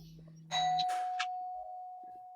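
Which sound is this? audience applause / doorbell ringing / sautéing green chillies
doorbell ringing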